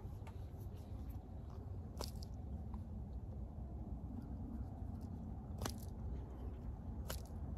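A blade cuts the tip off a caulk tube during a soffit light install, making a few faint, crisp crunching snips spaced apart against a quiet background.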